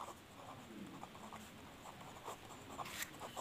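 Quiet scratchy writing on a board during a class 9 geometry lesson on parallelogram properties, a faint steady rasp with a few brief louder strokes and no talking.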